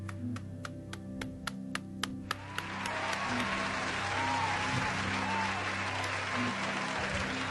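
Rhythmic clapping from a few hands swells into broad, sustained applause from a large audience, steady and full for several seconds, with a low hum running underneath.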